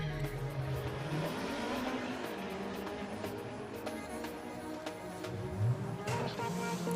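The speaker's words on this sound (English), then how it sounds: "BTCC inspired Honda Civic taking on the Golf GTI." At a Santa Pod Raceway drag meet, a BTCC-inspired Honda Civic and a Golf GTI rev, with engine tones rising and falling over a continuous rumble. The cars sound moderately distant.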